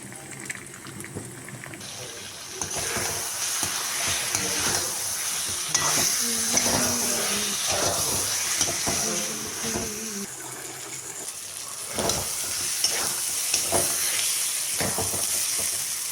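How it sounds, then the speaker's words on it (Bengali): An egg frying in a pan for a poach, seasoned with salt and pepper, gives a continuous close sizzle and bubbling that rises after a quieter start, with scattered pops and clinks and no talk. "এখানে পোচ বানাচ্ছি, ডিমের ঝোলে দিয়ে দিব"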